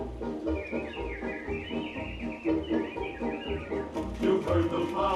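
Animatronic birds in Disney's Enchanted Tiki Room at Disneyland sing a show tune, chirpy whistled melody lines over music, with audience chatter and crowd noise mixed in underneath.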